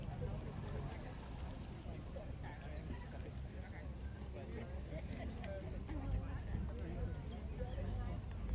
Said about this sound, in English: So we sadly have to tender back to the ship and just taking it all in as we sail back.